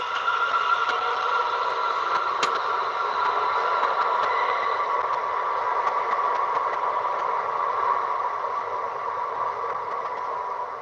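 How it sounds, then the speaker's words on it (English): A train leaving a station rumbles steadily nearby with a constant mid-pitched hum and faint clattering, sustained throughout with no voices. "So as the train's leaving the station"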